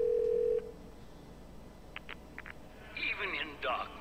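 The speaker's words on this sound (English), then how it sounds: "Dial Jenny's home number, dial" Inside a video game, a phone booth gives a short steady dial tone, then a few quick keypad beeps, followed by a faint burst of ringing or line noise.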